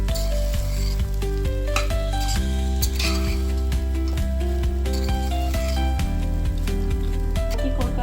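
Lemon rice being stirred in a pan while lumps are broken up, producing soft sizzling and light clinks of a spoon against metal, partly masked by steady background music.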